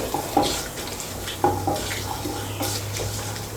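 Cardamom and whole cumin seeds tempering in hot oil while being stirred with a spoon, with sharp crackles and pops over a light sizzle and a few scraping knocks against the pan.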